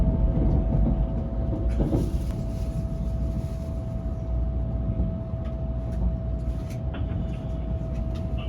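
A One Piece-liveried Shinkansen bullet train runs at speed after leaving Himeji, heard from inside as a steady, loud rumble with a sustained whine and occasional rattles.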